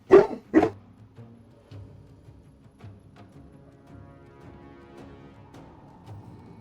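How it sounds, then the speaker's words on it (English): Dogs let out two sharp, loud barks in quick succession at the start, then quieter yips and whimpers continue faintly in the background with no voices. "that time the dogs were loud enough to trigger the mic, I'm sure."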